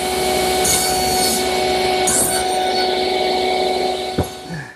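A bandsaw cuts an offset tenon on a wood blank for a deck chair, a steady close whine with a continuous rasping bite and a brief knock near the end, no talk.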